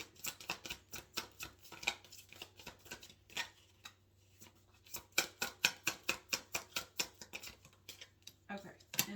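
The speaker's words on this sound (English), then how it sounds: "This deck is hard to shuffle." A large, oversized tarot deck being shuffled by hand, crisp riffling snaps in quick bursts, close to the microphone, with brief pauses between rounds.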